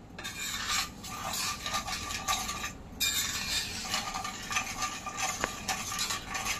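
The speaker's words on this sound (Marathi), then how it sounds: "नंतर ही मिल्क पावडर घालूया आणि ही कस्टर्ड पावडर, आणि हे आपण आधी मिक्स करून घेऊया।" Milk powder and custard powder being stirred together in a bowl for homemade mango ice cream, a steady close scraping and rubbing of a spoon against the bowl, continuous with brief pauses and no talking.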